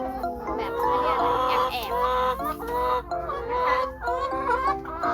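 Several laying hens cluck and chatter continuously at close range on a Thai farm, overlapping calls with a busy, steady rhythm and no pauses.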